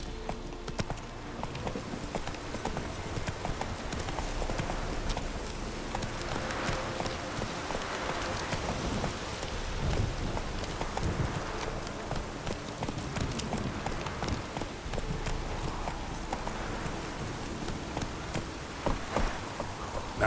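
Hooves of the horse Roach in The Witcher 3, a steady clip-clop of trotting that carries on for twenty seconds over light rain and ambient game sounds, with no talk.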